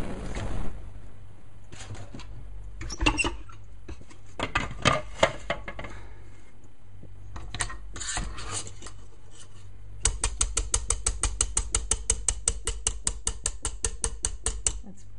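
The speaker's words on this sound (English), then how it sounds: "I am going to mix the rest with a spoon." A spoon works through stiff marble cake batter in a bowl, giving scattered scraping knocks at first, then a fast, even run of rhythmic clacking strokes against the bowl toward the end.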